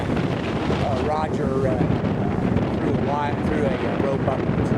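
Strong wind buffets a microphone outdoors at a field radio event with a dipole antenna strung between trees, a constant loud rumbling roar under brief talk.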